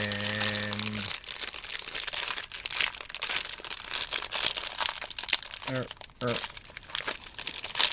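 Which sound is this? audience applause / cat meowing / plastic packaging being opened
plastic packaging being opened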